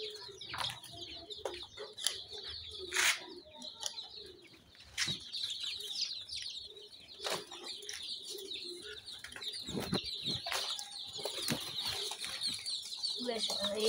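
Sick newborn fancy chicks chirping steadily, a dense high peeping chorus with occasional louder calls and soft knocks, close by throughout.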